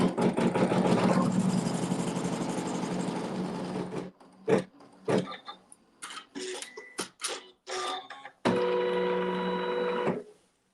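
A sewing machine stitches a log cabin quilt block, running in a long steady burst, then several short stop-start bursts, then one more sustained run, loud and close with no voices.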